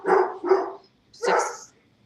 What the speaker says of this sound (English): No barking.